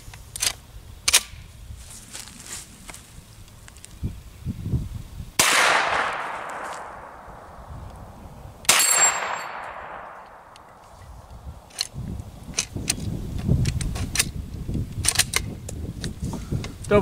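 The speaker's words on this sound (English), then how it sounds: "I'm just going to shoot some more of the Blazer." A Hi Point 9mm carbine fires Blazer ammunition at a range, two sharp loud shots with long ringing decays spaced a few seconds apart, amid handling clicks and rustling.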